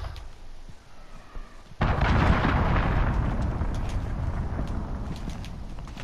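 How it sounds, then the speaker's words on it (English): Cruise missile strike in Call of Duty: Modern Warfare multiplayer: a sudden heavy blast erupts and rolls on as a sustained, rumbling barrage of explosions, loud and continuous to the end. "Allied cruise missile launched."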